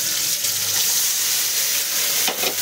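Small fried potatoes sizzle loudly in a pan with onion, ginger paste, tomato and garlic, a steady dense frying hiss with a brief stirring scrape near the end.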